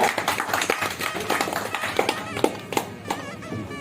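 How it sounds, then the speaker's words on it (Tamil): A crowd at a racing pigeon association's prize-giving ceremony applauds with steady, dense clapping that carries on for several seconds, fairly loud and close. "எல்லாரும் கைத்தட்டி வரவேற்பு கொடுங்க"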